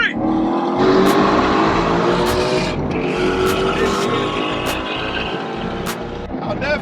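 Ford Shelby GT500 and Corvette C8 muscle cars roll racing side by side, engines roaring loud and close through sustained high-revving pulls with gear shifts, voices faintly audible under the din.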